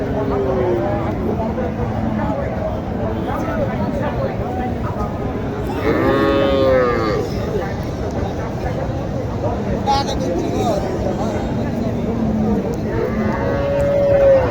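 Sahiwal cattle at a busy market moo several times, deep drawn-out calls near and far over a constant crowd murmur with voices talking.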